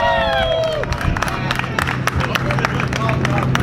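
A crowd cheers and applauds for Dominic at a Strong Island Stangs loudest exhaust competition: dense, steady clapping and whoops with a few rising and falling whistle-like tones at the start.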